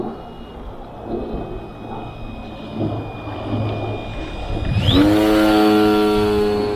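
A lightweight Depron foam RC Corsair F4U model plane makes a slow, near-stall pass, its electric motor a steady whine that swells and rises sharply near the end, with a loud harmonic drone that continues to the close.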